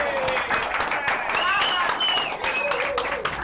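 A studio audience applauds a talk-show guest, Lisa LePorter, on a midnight variety show. The clapping is a steady, fairly close wash throughout, with a voice speaking over it.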